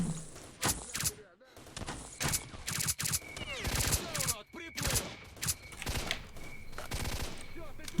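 Rapid bursts of gunfire and nearby bullet impacts from a firefight in STALKER: Shadow of Chernobyl, loud sharp cracks clustering in irregular volleys across the whole stretch with brief lulls between.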